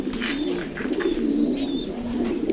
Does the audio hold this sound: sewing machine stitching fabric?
no